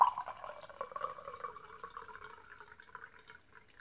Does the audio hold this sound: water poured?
yes